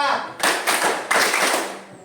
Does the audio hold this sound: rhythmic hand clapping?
yes